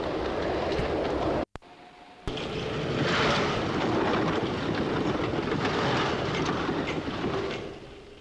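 A 1940s steam-era train rumbles past at close range, a steady broad roar with faint rhythmic clatter, briefly cut by a short dropout before building again and fading at the end.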